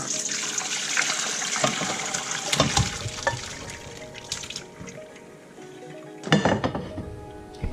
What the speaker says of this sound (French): on va venir verser ça dans un égouttoir